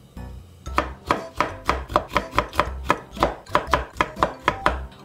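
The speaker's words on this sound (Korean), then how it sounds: "오이는 돌려깎기, 돌려깎기를 해본 지 엄청 오래돼가지고 잘 안 되네요." A knife spiral-cuts a cucumber on a board, a rapid run of about a dozen crisp, evenly spaced cutting knocks, close and clear with no talk.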